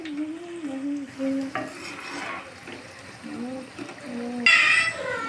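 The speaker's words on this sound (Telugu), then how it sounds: "ఇలా కలర్ మారే వరకు అయితే ఇవి ఫ్రై చేసుకోవాలి" Puffed rice (murmura) vadas fry in hot oil with a steady, light sizzle and bubbling while someone talks over it and utensils stir and clink now and then.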